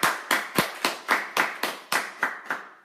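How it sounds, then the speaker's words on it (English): Audience clapping for Anastasia at a church gathering: about eleven loud, sharp claps in a steady, even rhythm, close and alone without talk. "So my advice to all of you is to clap up for Anastasia."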